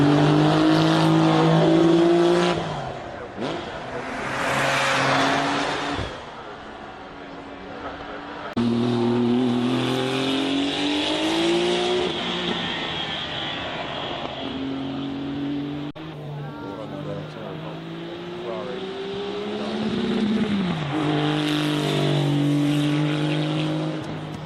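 A modified Porsche 911 race car driving hard on a track, its engine a loud, close rasping drone that rises and falls through gear changes and throttle lifts over the whole stretch.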